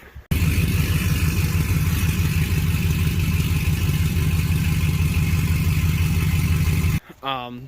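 Exhaust rumble from a lowered 2003 Chevy Silverado SS AWD idles loud and close in a steady throb, then cuts off abruptly near the end as a voice begins talking.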